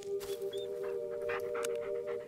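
A dog pants in the Blair Witch video game, with quick breathy bursts over a steady tonal background hum, fairly close and without any voices.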